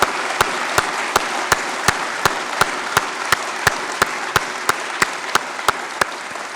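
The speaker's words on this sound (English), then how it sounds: "give all of them a big round of applause" Audience applause fills a hall at the inauguration of an artificial intelligence summit and awards event: a steady wash of clapping with sharp, evenly spaced claps that keep a regular beat, with no voices.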